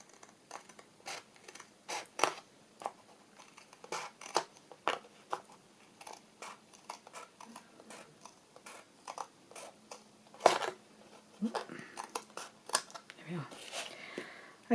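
Scissors snip and trim paper for a handmade journal, rounding the bottom corners with a quick run of crisp, close cuts that come in uneven bursts, with louder snips near the end and no talking.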